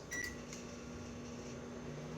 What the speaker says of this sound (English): Put her in the microwave.